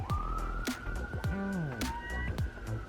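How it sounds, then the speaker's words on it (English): Emergency vehicle sirens passing by outside, a wailing tone sweeping up and down with rapid yelping cycles and sharp whoops layered over each other, loud and steady throughout. "There's sirens going by"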